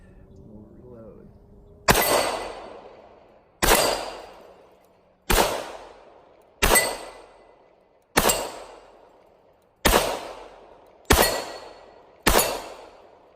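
Eight sharp, loud pistol shots from a Smith & Wesson E Series 1911 fired at targets, spaced about one to two seconds apart, each with a short ringing decay, after a brief stretch of quiet talk.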